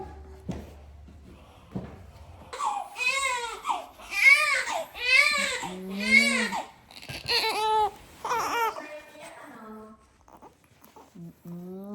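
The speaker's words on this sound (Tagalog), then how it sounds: "Umiiyak na siya." An infant wails in repeated rising-and-falling cries, loud and close, with breaths between sobs and a few adult voices speaking quietly at the start and end.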